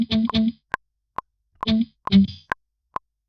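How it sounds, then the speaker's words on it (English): A reggae beat track runs through a rock amp distortion effect, giving crunchy, gritty drum hits: punchy distorted thumps alternating with short snappy clicks in a sparse, syncopated pattern, loud and isolated. "Go to the amps, amp designer, and we're gonna add some distortion. Let's try the rock."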